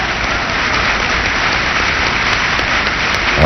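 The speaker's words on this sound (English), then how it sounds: "And the room, of course, is erupted in cheering and applause" Cheering and applause in the room at the Camp David treaty signing ceremony, a dense, steady wash of clapping that is loud and continuous throughout, sounding like heavy rain.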